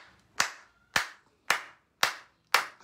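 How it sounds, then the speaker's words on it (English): Five sharp, close single hand claps spaced evenly about half a second apart, each crisp and ringing briefly before the next, alone with no voices. "I clap for you now."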